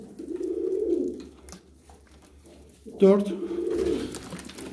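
Pigeons coo in low, throaty rolls, two long bouts with a pause between, while someone talks nearby.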